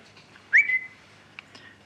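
A person whistles a short, familiar little whistle: one rising and sliding tone followed by a brief faint chirp, close and alone against a quiet background.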